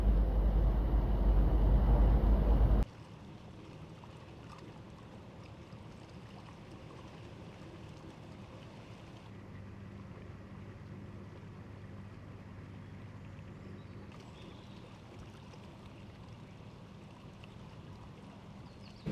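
A widebeam boat pulls away from its mooring at Henley on Thames: a steady low engine rumble and water wash, loud and close for the first few seconds, then quieter and continuous, with no talking.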